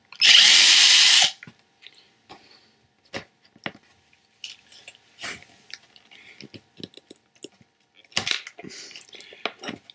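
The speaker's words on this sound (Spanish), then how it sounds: "ahora vamos a sacar del disco rígido viejo los tornillos." A power screwdriver gives one short, high whir while removing screws from the old hard drive of a 2009 iMac, followed by small metallic clicks and handling noises nearby.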